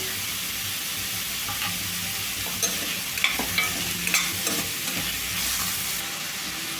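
Onion pieces fry with salt in a pan for ridge gourd fry, a constant close sizzle with a cluster of scraping, tapping stirs in the middle, no voices.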